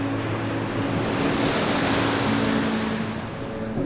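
Ocean waves lapping steadily on a beach shore on the Gold Coast, a continuous close wash of surf with some wind across the microphone and a faint low hum underneath, no voices.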